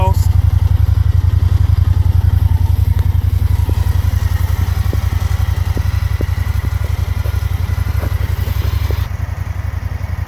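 A Honda Pioneer 1000 three-seat utility vehicle engine idles steadily nearby, a low rhythmic chugging rumble with light mechanical clatter, holding an even pace throughout.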